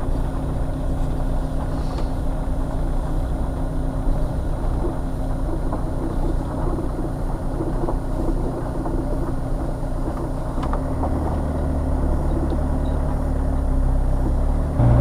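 Motorhome driving along the gorge road toward Ironbridge, its engine a steady low drone with road rumble heard from inside the cab, unbroken for the whole stretch.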